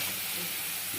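Onion paste sizzling in hot oil while chicken chaap is being cooked at home, a steady, soft hiss that stays even and fairly faint for the whole moment.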